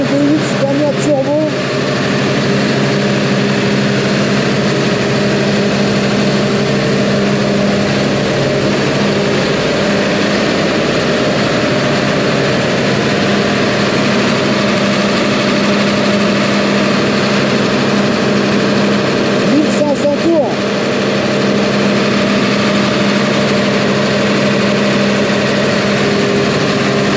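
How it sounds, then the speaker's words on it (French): Twin Scania V8 turbo diesel engines idle in a steady, deep rumble for the whole stretch, with a brief clunk near the start and another around two-thirds through. "Deux V8 Scania turbo."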